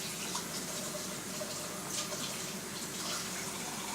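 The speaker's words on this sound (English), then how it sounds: "Ralphie, can you wash that off? Rinse it, papi. Rinse it off real quick" Tap water runs steadily into a kitchen sink while something is rinsed off, a continuous broadband splashing rush at moderate, even volume with no voices.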